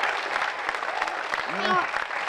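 Audience applause at a live Halloween show, a dense wash of clapping heard beneath an ongoing voice, with a brief tonal sound near the end.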